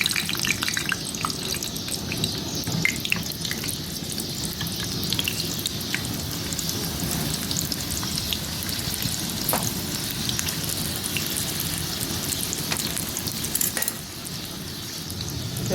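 Green chillies fry in hot olive oil, as the first step of a mixed daal chawal, with a loud, steady sizzle and crackle that runs unbroken throughout, with no talking.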